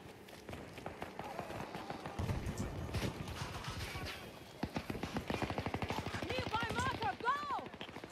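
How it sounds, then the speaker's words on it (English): Gunfire in Battlefield 2042 crackles in quick automatic bursts and single shots, fairly close and loud, while players talk over it. "Shooting at us."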